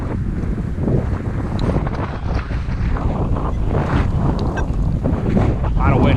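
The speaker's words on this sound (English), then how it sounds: "A lot of wind too." Strong wind buffeting a microphone outdoors during metal detecting, a loud continuous roaring rush with gusty swells throughout.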